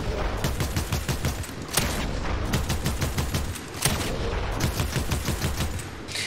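Rapid bursts of shotgun fire in the Fortnite video game, a fast run of sharp, loud repeated blasts with a brief pause midway, heard alone without talk.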